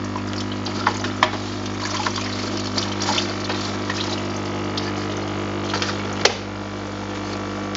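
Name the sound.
water rinse running while developing a PCB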